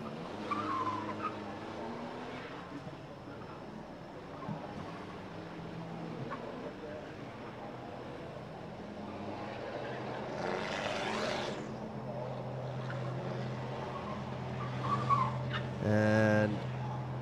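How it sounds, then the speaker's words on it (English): Supercars idle and rev in the pits at the Bangsaen street circuit race in Chonburi, Thailand, a steady engine rumble with a few louder revving swells as a commentator talks throughout. "we've got some supercars bustling and rumbling already"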